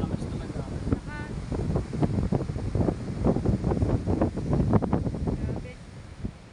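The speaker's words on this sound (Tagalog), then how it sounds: "Ang laki po ng alon." Big waves and strong gusty wind at the shore, with heavy wind buffeting the microphone and surf rumbling beneath, as someone speaks over the din in Filipino.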